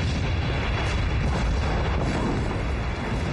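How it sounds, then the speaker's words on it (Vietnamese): Explosions and artillery fire in a Chinese civil war action film: a dense, continuous barrage of heavy booms and rumbling blasts that fills the whole clip with no pause and no voices. "sao bọn chúng vẫn nổ vậy?"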